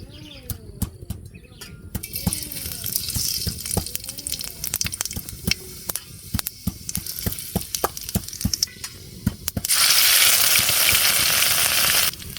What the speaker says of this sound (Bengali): তো কড়াই গরম হয়ে গেছে, এখন তেল দিয়ে নেই। তো তেলটা গরম হয়ে গেছে